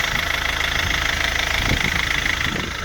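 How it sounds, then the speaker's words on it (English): An MG ZTT car engine idles smoothly with a steady, even mid-pitched rumble and faint rhythmic ticking, close and continuous, dropping slightly at the end. "But engine's running quite smooth actually."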